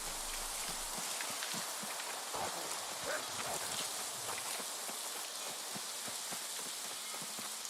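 Rain pours steadily in the New World video game, a dense, even hiss of drops hitting the ground with scattered louder patters, close and continuous from start to finish.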